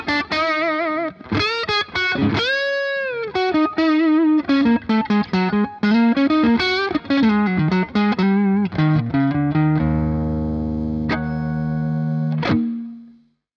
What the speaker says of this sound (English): Turn on the reverb again.